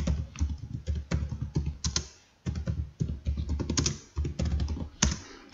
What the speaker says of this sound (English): I'm gonna type in minimalist living room and see what comes up